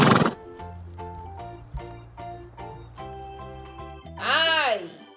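A single loud horse neigh rises and falls near the end, following a brief clip-clop and a cheerful melody in a children's phonics song.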